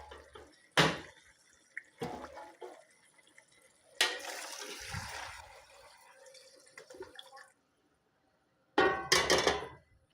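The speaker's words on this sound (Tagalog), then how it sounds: "lalagyan natin siya ng water. Yung pinakulo kanina ng water ng meat." Meat broth poured into a cooking pot for an Arabic margog stew: a brief liquid splash, then a longer sloshing pour in the middle, and a final short burst of pouring near the end, with quiet gaps between.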